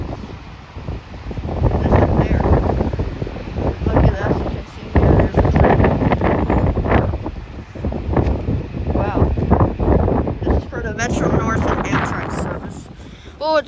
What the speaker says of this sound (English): It looks like it's windy.